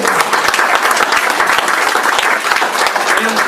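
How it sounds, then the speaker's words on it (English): An audience applauds loudly and steadily, a dense wash of many hands clapping at once with no break, the closing ovation at a public meeting. "Give them another round of applause."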